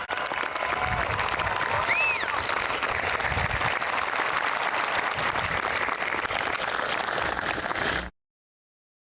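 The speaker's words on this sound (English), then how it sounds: "Please join me in giving a round of applause to our veterans for their honorable service." Audience applause for veterans at a high school graduation ceremony, a dense sustained clapping from a large crowd that holds steady for about eight seconds before cutting off abruptly.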